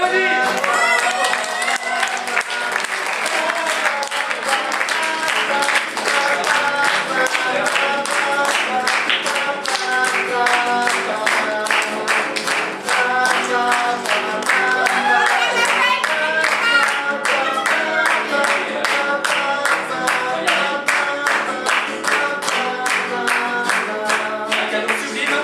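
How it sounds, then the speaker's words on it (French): A game show audience at a carp-themed event claps in rhythm for a correct quiz answer, with sustained rhythmic clapping blended with music and crowd noise for the full stretch. "Une carte, bravo, on l'applaudit!"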